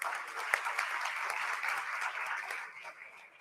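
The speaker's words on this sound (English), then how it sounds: "Let's give them another round of applause, please" An audience at a poetry recitation event applauds a performance with steady, moderately distant clapping that thins out and fades over the last second.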